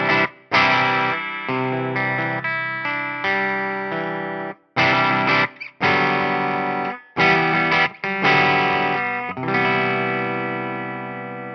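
Jackson Pro Surfcaster electric guitar played through an EVH Stealth 100 amp on the green channel at low gain, lightly driven chords and riffs with chorus-like shimmer, close and loud, separated by short stops, no talk.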